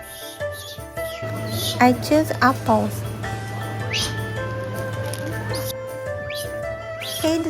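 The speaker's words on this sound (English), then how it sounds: "Oh, the baby monkey is making noise." A baby monkey at Arashiyama monkey park gives short high squeaky calls in a cluster early on, heard close amid people talking and a steady low background hum.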